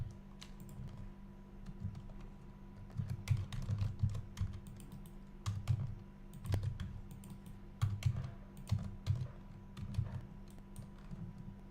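Computer keyboard keystrokes entering Blender shortcuts, a steady run of close, crisp clicks in uneven bursts over a low background hum, with no talking.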